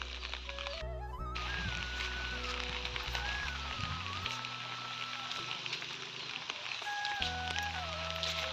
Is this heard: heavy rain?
yes